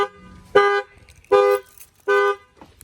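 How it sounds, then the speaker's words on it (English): The factory alarm on a 2020 Ford Explorer, set off by banging on a tire, sounds three loud, close honks of even length in a steady rhythm, with no talk. "I'm gonna go ahead and bang on this tire. It should fire off the alarm."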